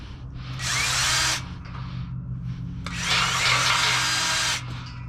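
A power drill running in reverse with a freshly sharpened bit bores into a workpiece in two loud, rasping bursts separated by a short pause, close to the microphone over a low steady hum.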